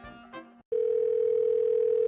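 In a video game, a steady phone dial tone starts abruptly after a short burst of voice and a brief silence, then holds one loud, unbroken electronic hum to the end.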